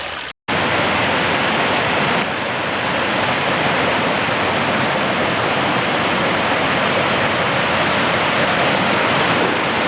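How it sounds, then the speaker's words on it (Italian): Mountain stream in Val Clarea, Valsusa, in winter, rushing steadily as a loud, continuous broadband roar of flowing water, close and unbroken apart from a brief dropout near the start. "L'acqua, che meraviglia."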